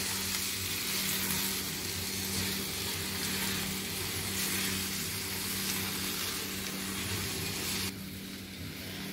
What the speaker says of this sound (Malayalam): ഇനി നല്ലതുപോലെ ഒന്ന് മിക്സ് ചെയ്ത് കൊടുത്തുകൊണ്ടേയിരിക്കുക.